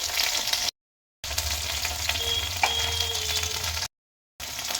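Okra frying in a pan while being stirred, giving a steady close sizzle with faint scraping ticks and two brief dropouts.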